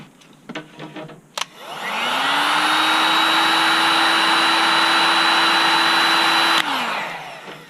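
A few light clicks, then a heat gun switches on and blows with a steady, loud whooshing whine for about five seconds while shrinking heat-shrink tubing on lightsaber switch wires, then winds down.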